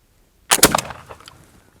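A single loud flintlock shot firing a dime-roll paper cartridge of birdshot at a target 25 yards away, one sharp crack with a short rumbling tail that fades over about a second.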